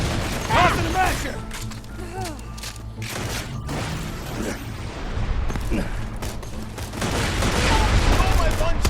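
Grenade tossed and exploding during a firefight in the video game Borderlands 2, a burst of blasts and gunfire under a loud battle din, with voices talking throughout.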